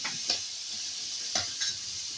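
Onion frying in oil in a pan while being stirred, a soft constant sizzle broken by a few sharp spatula scrapes close by.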